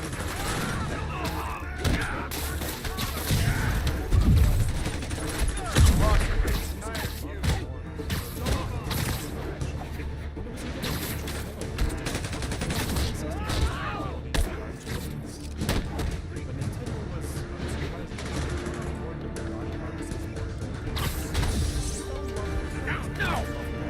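Rapid bursts of gunfire and crashing impacts from a Spider-Man video game, loud and busy, layered over game music and talking voices.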